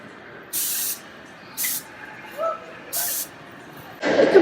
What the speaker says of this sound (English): The compressed air sound.